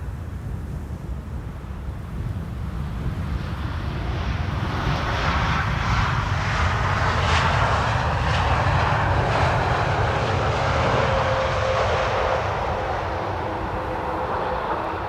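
A fixed-wing airliner lands at Amsterdam Schiphol Airport in sunny, gusty crosswind conditions, its engines roaring steadily and loudly throughout, swelling midway as it passes, with wind buffeting the microphone.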